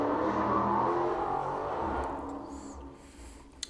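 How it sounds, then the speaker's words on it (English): Outside on the street, a loud car engine revs and roars, strongest at first and then fading away as the car moves off, with a short click near the end. "don't know if y'all can hear the obnoxious engine in the background that we just heard"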